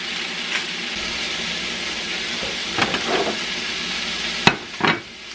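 Vegetables sauté in garlic and olive oil with a constant soft sizzle, broken by a few clacks and scrapes of stirring and one sharp knock near the end.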